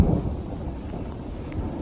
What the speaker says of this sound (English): Epic scenario here though, with this storm coming through, all this thunder and lightning, rain and hail.